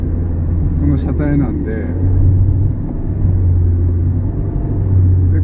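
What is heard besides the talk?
2000cc naturally aspirated DOHC car engine running above 3000 rpm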